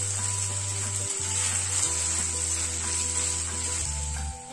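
Taro root (arbi) pieces frying in hot oil give a steady, even sizzle that holds close and loud throughout, under a low electrical hum with no talking.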